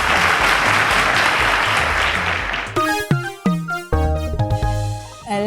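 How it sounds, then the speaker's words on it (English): Studio audience applause for a contestant on a televised maths quiz show final, loud and dense at first, then breaking into music and scattered voices. "round of applause to Dennis"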